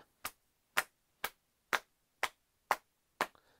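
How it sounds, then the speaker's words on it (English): Seven evenly spaced soft pats of hands on a lap keep a steady beat, about two per second, close and clear with near silence between them and no talking. "You could pat on your lap."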